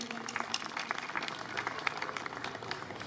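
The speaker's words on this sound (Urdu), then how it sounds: "جی بھرپور تالیوں میں تشریف لائیے جی۔" An audience at an educational conference applauds as guests walk onto the stage, a steady, moderately distant patter of many hands clapping throughout.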